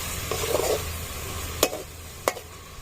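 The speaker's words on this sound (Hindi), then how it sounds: "तो अभी ना इस मसाले को अच्छी तरह भून लेना है।" Spice masala for a rice and meat dish fries in a pot with a soft continuous sizzle, punctuated by two sharp spoon knocks against the pot rim as it is stirred, close up with no speech.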